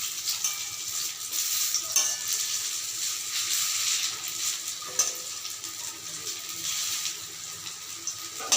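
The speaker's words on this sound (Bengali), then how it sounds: "কিছু সময়ের জন্য ভাজতে দেবো যতক্ষণ পর্যন্ত এগুলো লাল লাল না হয়" Water lily flower fritters fry in hot oil, turning red-brown, with a continuous bright sizzle and bubbling that stays even throughout, broken by a few faint utensil taps.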